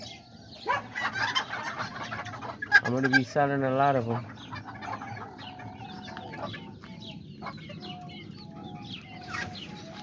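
Miniature Azteca and serama hens cluck and squawk nearby in bursts, one rising into a drawn-out crow-like call, while someone talks over the flock.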